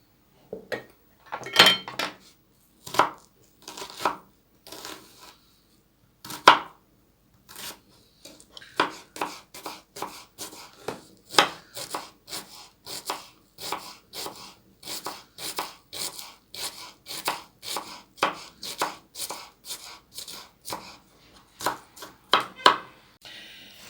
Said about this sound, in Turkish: İlk önce kuru soğanımı küp küp doğrayacağım.